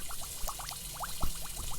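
Water runs for face washing with soap in the game Avatar World, a faint, steady splashing pour with small bubbly pulses lasting a couple of seconds, with no voices.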